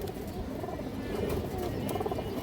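A big pigeon of an old bloodline coos softly and continuously at close range, low throaty rolls with no talking.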